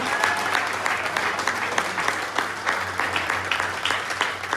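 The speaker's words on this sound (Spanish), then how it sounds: "recibámoslos con un fuerte aplauso" A church congregation claps warmly during an anniversary night service at Arca del Pacto, steady applause with a few sharper individual claps, and a low hum runs underneath throughout.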